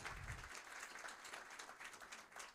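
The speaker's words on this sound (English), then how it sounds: "a round of applause because we couldn't make this happen without our sponsors" Applause from an audience at a celebration opening a university system facility, a faint, dense patter of clapping heard alone for a couple of seconds.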